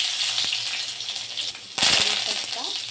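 Crushed garlic hits hot oil already tempered with mustard seeds and cumin for a Marathi buttermilk kadhi, setting off a loud, close sizzle with popping seeds after a softer steady frying hiss.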